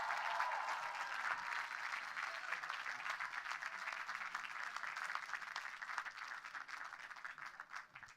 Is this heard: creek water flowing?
no